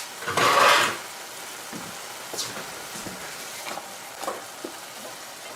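Mushrooms frying in a pan, a soft, steady sizzle with a louder burst of hiss near the start, then faint crackles and light clicks of stirring, close and quiet, with no talk.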